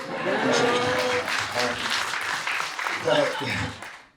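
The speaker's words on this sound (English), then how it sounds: "I'll take that clap, I wasn't ready for it" Audience applause at a wealth-building panel event, a steady wash of clapping from a crowd that swells and holds for about four seconds before tapering off, with voices audible underneath.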